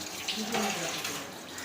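A kitchen water tap left running in a home cooking setting, a steady hissing stream splashing into a sink, fairly faint and continuous, with brief faint voices in the background.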